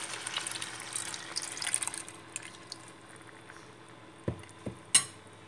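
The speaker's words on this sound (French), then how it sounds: "Maintenant, je vais ajouter le lait de coco." Coconut milk is poured into a pot of vegan potato curry with a soft gushing liquid sound at first, followed by a few quiet knocks and a sharp tap near the end.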